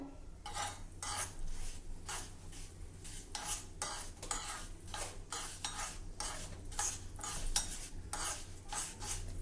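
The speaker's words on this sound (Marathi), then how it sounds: "मेथी दाणे घेतले आहे हे थोडं तेल घालून आपण मस्त खरपूस भाजून घेऊ" Fenugreek seeds are roasted in a little oil in a small kadhai for raw mango pickle, with a spoon scraping and stirring in quick, rhythmic strokes over a faint, soft sizzle, close by and fairly quiet.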